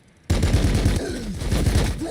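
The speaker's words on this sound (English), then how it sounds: "Our ball predator tank here does have our twin assault cannon" Twin assault cannon on a Predator tank in the Warhammer 40K Battlesector video game, a sustained burst of rapid rounds that starts abruptly and keeps pounding loud and close for about two seconds.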